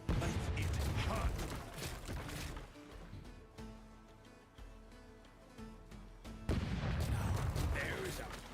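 Ship cannons fire in the pirate video game Rogue Waters: a heavy, booming barrage opens, drops to a quieter stretch of rumbling with a tonal backdrop, then another loud volley of blasts crashes in near the end.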